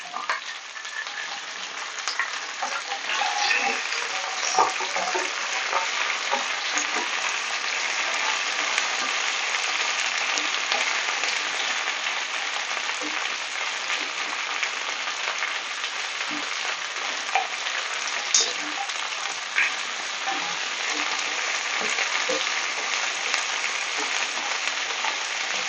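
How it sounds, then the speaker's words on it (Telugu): Okra pieces and curry leaves fry in a pan with a long, even crackling sizzle like light rain, dotted with small pops and occasional stirring, and nobody speaks. "కరివేపాకు వేసుకున్నాము. బెండకాయ ముక్కలు వేసేసుకున్నాము."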